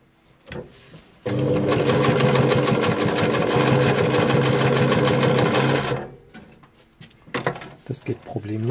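Sewing machine stitching through soft leather, one of several machines being compared on different materials, runs in a steady rapid burst for about five seconds, loud and close, with brief talk before and after.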